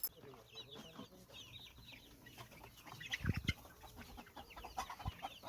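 Chickens on a farm that keeps Jindo dogs cluck softly in the background, with a few louder bursts and faint rustling toward the middle.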